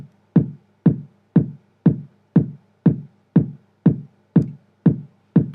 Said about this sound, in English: There's our 4 on the floor kick drum.